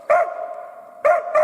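Dog barking out in the taiga near a hut, three sharp, loud barks close by, the first followed by a lingering whine-like tail and the last two in quick succession.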